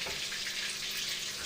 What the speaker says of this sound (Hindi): ये पानी डाल रहे हैं इसमें, ग्राइंड करेंगे अभी इसको।